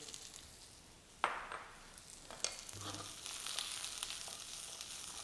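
Carrot and capsicum frying in a pan, a soft steady sizzle broken by a few sharp clinks and scrapes from stirring.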